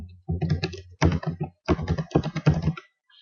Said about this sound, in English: Down here is where you would want to enter your username and password.